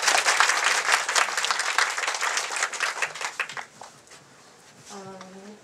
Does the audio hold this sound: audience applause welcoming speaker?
yes